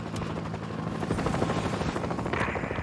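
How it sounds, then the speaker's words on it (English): A helicopter arrives in a Battlefield game with loud, continuous rotor chop and engine roar, a steady close wash with faint gunfire mixed in. "Hey, look! That's our chopper!"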